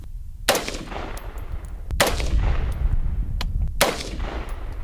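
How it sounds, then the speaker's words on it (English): Three sharp rifle shots from a FoldAR folding rifle at a shooting range, loud and close, spaced about one and a half seconds apart, each followed by a brief echoing decay over outdoor background noise. "We're gonna go ahead and fold it. Take our 3 rounds and shoot our next group."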